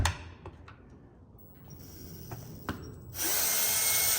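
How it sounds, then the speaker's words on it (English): A cordless power drill loosens the clutch cover bolts on an Echo 2511 chainsaw, starting after a few faint clicks and taps and then whirring loudly and steadily, close up, for about a second at the end. "then I'll use my drill here because it's a little bit faster"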